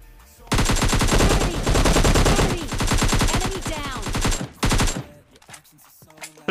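Sustained rapid automatic gunfire from a video game battle, fired while prone, bursts loud and close with brief gaps, ending in a short final burst.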